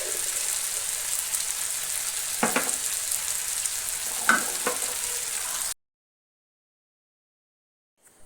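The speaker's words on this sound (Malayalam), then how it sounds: "ഈ ചേരുവകളൊക്കെ ഒന്ന് ഈ ചിക്കനിൽ പിടിക്കണ വരെ നമ്മളൊന്ന് ഇളക്കി കൊടുക്കണം" Butter garlic chicken sizzles steadily in a hot pan, with a couple of soft scrapes as it is stirred, then the frying cuts off abruptly into silence near the end.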